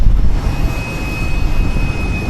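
A passenger jet near an airport on a trip to Guam gives off a steady, loud, broadband engine roar that holds without a break, with no talk.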